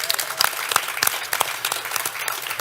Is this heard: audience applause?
yes